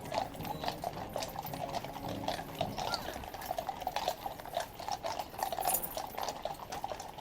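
A police horse's hooves clip-clop in a quick, uneven rhythm, faint and somewhat distant under a busy background.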